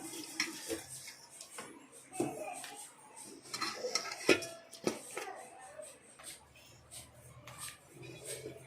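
Fish being added to a pot of boiling fish curry, scattered clinks of a utensil against the pot and soft splashy handling, close and fairly quiet amid light background voices.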